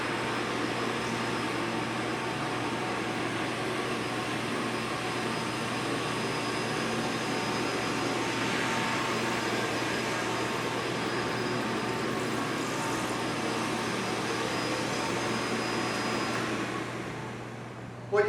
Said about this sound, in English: we're going to drop the squeegee on the floor, vacuum this up, and show you the results